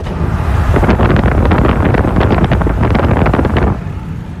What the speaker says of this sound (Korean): 여러분 바람 소리 한번 들을래요?